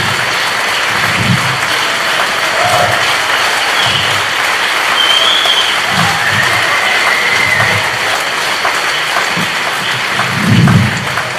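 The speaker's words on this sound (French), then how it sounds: "de faire un standing ovation pour ce congrès ici à Marseille pendant 2 jours" A large congress crowd in Marseille gives a standing ovation, dense sustained applause filling the room, loud and close with a few scattered shouts rising near the end.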